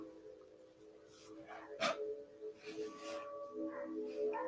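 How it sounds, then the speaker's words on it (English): A pet dog barks indoors, a few sharp barks standing out near the middle and then trailing off, moderately close behind a soft steady hum and some faint voice. "my dog is barking, of course, all of a sudden"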